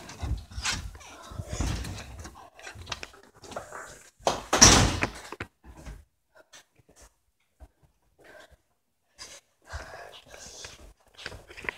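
A house door is opened with a sharp thunk and clatter amid shuffling and handling noises, close by, with a dog and quiet voices also present.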